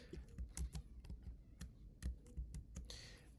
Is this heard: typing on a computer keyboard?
yes